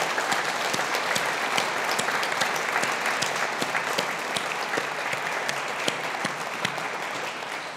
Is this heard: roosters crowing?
no